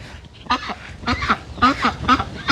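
Farmyard geese and ducks honk and quack in four or five loud, close bursts that come in a quick uneven rhythm, with no other sound standing out.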